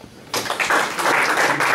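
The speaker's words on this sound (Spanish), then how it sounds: "Los aplausos." A cultural gallery audience in Sucre breaks into applause after a quiet moment, the clapping starting abruptly and swelling to a full, close burst.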